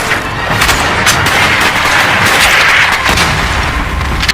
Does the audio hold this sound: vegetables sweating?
no